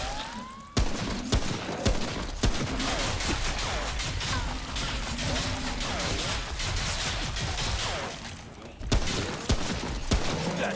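Enemy gunfire in the video game Remnant: From The Ashes, dense rapid bursts of shots filling the scene almost continuously, loud and close, with a brief pause before firing resumes.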